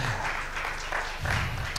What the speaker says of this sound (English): A round of applause to her as she takes the stage.